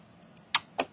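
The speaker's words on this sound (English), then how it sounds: "so we start typing" A computer keyboard gives two crisp, close keystrokes about a quarter second apart, with a couple of fainter clicks just before them, in a quiet room.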